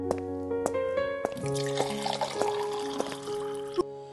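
Water poured out for a drink in a dramatized scene, a continuous trickling, splashing flow heard over sustained background music, with a few clinks along the way.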